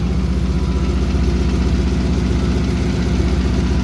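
A red 2015 Ford Mustang engine idles close by, a loud, steady low rumble with an even pulsing beat and no revs throughout.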